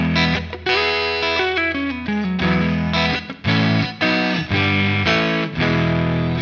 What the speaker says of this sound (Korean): 스탠딩이라는 소리 되어 있고요.